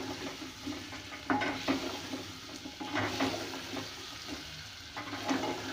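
Masala for aloo palak frying in a pan while being stirred, a steady soft sizzle with scraping spoon strokes coming in uneven bursts, close and fairly quiet, no voices.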